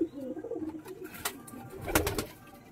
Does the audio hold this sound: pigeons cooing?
yes